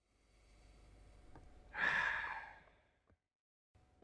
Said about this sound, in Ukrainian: Повільний вдих і повільний видих.